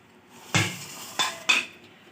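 A spoon mixes spices, salt and food colouring in a bowl, giving three sharp clinks against the dish over a quiet background.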